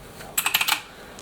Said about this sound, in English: Cheap keyboard, but it is mechanical.